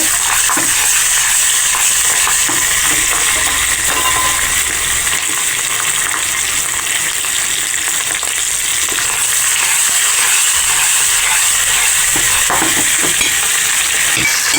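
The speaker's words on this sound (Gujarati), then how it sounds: "आपणे तेमां मरचा नाखी देवाना अने हलावी लेवाना" Green chillies coated with gram flour fry loudly in a pan, a dense, continuous sizzle close up with stirring scrapes running throughout.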